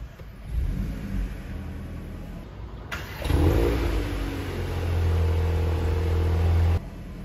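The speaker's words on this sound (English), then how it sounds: "You hear the exhaust sound." A 2021 VW Golf GTI Clubsport with a 2.0 TSI engine cranks and fires into a loud cold start, its exhaust settling into a steady, deep rumbling idle that holds until the end, with no talk.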